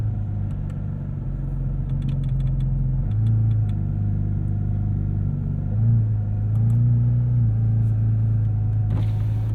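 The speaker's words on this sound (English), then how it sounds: "We are going to crack the windows here for the first little bit because I want to hear this 4-liter sing." Porsche 718 Cayman GT4 RS with its 4-liter flat-six driving with windows cracked, a steady droning engine note that steps up and down through gear changes, with a brief louder swell near the end.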